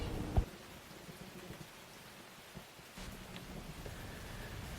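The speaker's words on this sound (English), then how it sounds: "So I'm using thunder again here as sort of a foreboding sense that more problems are on the way." Steady rain patters as a foreboding storm sound effect, with a sharp low rumble of thunder early on and the downpour swelling louder again toward the end, no voices present.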